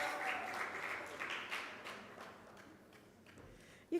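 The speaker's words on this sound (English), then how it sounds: "You can't fizzle out the applause" Audience clapping at a public sector debate grand final continues as the teams keep arriving, a soft, fairly distant wash of applause that gradually thins, ending with a single sharp tap.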